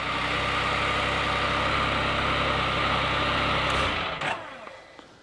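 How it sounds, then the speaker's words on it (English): Can-Am Spyder RT Ltd motorcycle engine idling steadily and loudly up close after starting, a continuous rumble that cuts off sharply near the end, leaving faint clicks. "and then the bike starts up"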